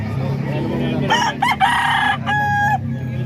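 A fighting rooster crows loudly and close, two or three strained, rising calls in quick succession over a low background murmur of people and clucking.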